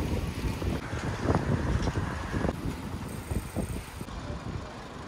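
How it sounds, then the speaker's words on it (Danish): Wind buffets and rushes during a run near Sankt Jørgens Sø lake in Copenhagen, a continuous gusty roar with uneven surges and no speech. "så er der altså en del vind"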